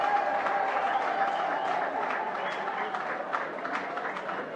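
Sustained audience applause for President Félix Antoine Tshisekedi at a Congolese public gathering, a dense steady clatter of many hands with some crowd murmur, holding even loudness throughout.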